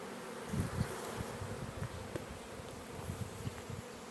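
Honey bees buzz around an open hive during an inspection, a dense, continuous hum close by with individual bees flitting past now and then.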